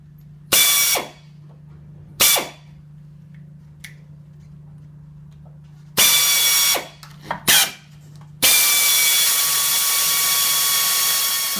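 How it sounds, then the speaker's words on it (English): Power drill boring through a steel chassis box member while a front tow bar is fitted, in several loud, separate bursts, the last one running steadily to the end. "mark and then drill through this existing box member"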